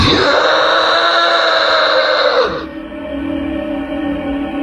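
A loud, drawn-out aswang scream with a harsh, wailing tone that cuts off abruptly midway, leaving a lower lingering moan.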